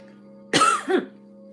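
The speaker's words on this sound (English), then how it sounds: "And when I cough, it's truth," A single close cough in two quick bursts, over a steady low electrical hum.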